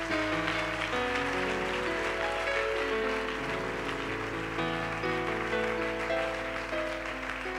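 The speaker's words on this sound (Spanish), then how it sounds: "Oye, si eso no se merece un aplauso, apaga y vámonos" A church congregation applauds during a sermon, a continuous patter of clapping spread evenly beneath sustained organ-like music chords, steady and moderately loud throughout.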